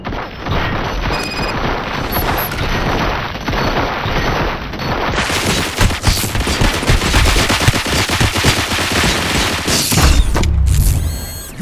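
Rapid automatic gunfire and heavy mechanical clatter from the video game Robocop: Rogue City, loud and sustained for the whole stretch, bursts overlapping with booms and metallic impacts near the end.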